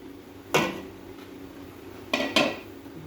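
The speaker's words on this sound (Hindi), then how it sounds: "कढ़ाई हमने ले ली है, इसको हमने चूल्हे के ऊपर रख दिया है।" A metal kadai is set down on a stove while cooking mutton dum pukht, giving one sharp clank near the start and two more close together near the end, with no voices.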